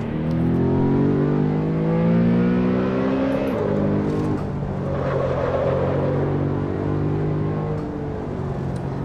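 A BMW M3 E92 accelerates hard up the Transfagarasan hill climb, its engine note rising steadily through the gears with a brief shift dip, loud and close, from the car itself, with no talking.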